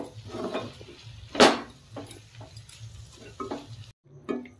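Chowmein stirred with red chili sauce in a hot pan, giving a few soft scraping and clinking strokes against the metal with one sharper scrape partway through, under a faint steady sizzle.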